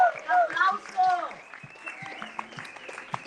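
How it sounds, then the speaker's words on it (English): An audience at a disability leadership alliance event gives light, scattered applause. Sparse claps sound under cheerful voices and an announcer speaking. "Let's give a round of applause."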